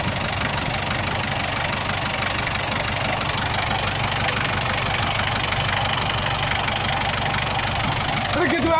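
Mitsubishi car engine idling with a knock, a steady rough mid-pitched running sound heard close up, with faint talk over it; the engine loses power and runs heavy once it warms up.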